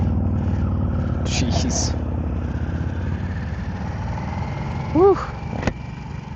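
A 2023 Harley-Davidson Nightster Special motorcycle engine rumbles low and steady up close, with a voice exclaiming briefly over it.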